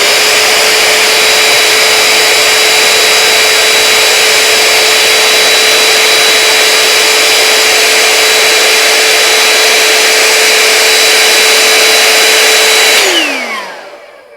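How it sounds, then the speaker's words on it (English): A small vacuum cleaner runs loudly and steadily with a high whine, then winds down and stops near the end. "You can take a vacuum or a dry wipe to get all of this extra debris out of here."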